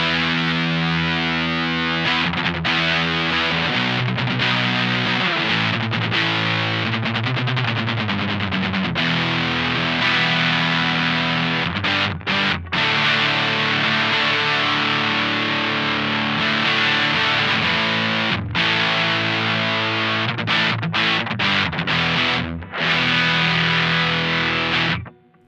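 Electric guitar driven through an Analog Alien Rumble Seat overdrive pedal with the gain cranked and treble uncut, playing a loud, continuous distorted chord-and-riff passage with brief gaps near the end.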